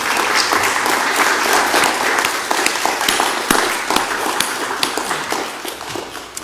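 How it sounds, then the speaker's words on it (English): A church congregation applauds its volunteers as they stand, a full, close round of clapping that holds strong before gradually tapering into scattered claps. "let's give them a round of applause"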